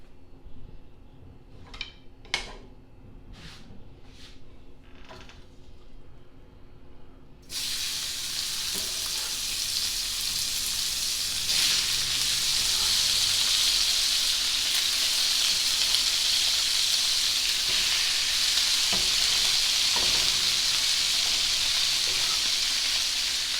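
Beef for Chinese beef and peppers hits about a third cup of hot oil, and a loud, dense sizzle starts suddenly and holds steady. A few faint clinks come before it.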